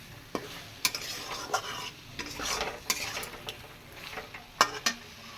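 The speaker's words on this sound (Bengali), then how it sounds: "সুন্দর করে কষানো হয়ে যাচ্ছে।" A ground spice paste of pepper and coriander is sautéed in a pan for a potato curry, with a soft sizzle under repeated metal spatula clinks and stirring scrapes, close by.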